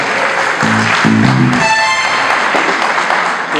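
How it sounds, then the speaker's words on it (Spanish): Audience clapping for a saxophone player at a live concert, brief tonal notes and thumps mixed in early, the applause continuing steadily and fairly loud. "el aplauso para Manuel Florecín en el saxo."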